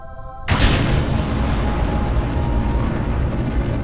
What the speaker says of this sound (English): So, let's launch some larger rockets.